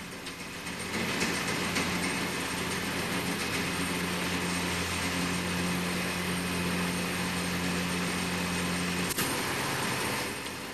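A roller chain drive fitted with a Rosta automatic tensioner runs steadily, a continuous mechanical whir and rattle with a low tonal hum, holding level throughout with a brief sharp tick near the end.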